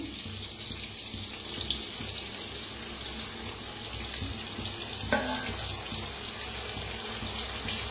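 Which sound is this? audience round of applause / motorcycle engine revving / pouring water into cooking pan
pouring water into cooking pan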